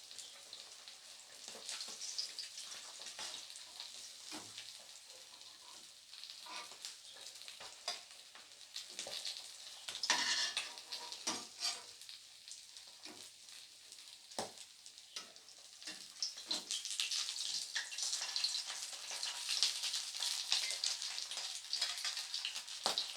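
Pieces of katla fish fry in hot oil, a steady close sizzle with scattered crackles and pops that swell louder toward the end, with no talking.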